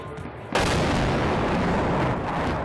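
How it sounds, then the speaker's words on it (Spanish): A sudden loud blast breaks in after a quieter stretch, followed by a sustained roaring rumble of explosions and gunfire echoing across central Kyiv during wartime. "Las explosiones se suceden en el centro de Kiev."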